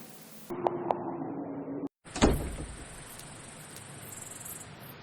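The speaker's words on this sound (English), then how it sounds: "The door on the other side opened" A door opening in the horror RPG game Fausts Alptraum, with a sharp click followed by a sudden loud thud and a sustained high hiss that lingers afterward, heard after a brief moment of silence.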